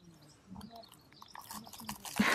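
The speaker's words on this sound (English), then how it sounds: "Good crunch." Someone bites into a tea cake with a crisp crunch, quiet chewing and small crackles building to a louder bite at the end, close and soft in a quiet room.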